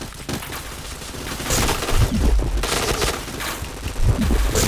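Rapid gunfire bursts from a mobile shooting game, with repeated loud shots and impacts rising in intensity, sounding close and dense through most of the stretch.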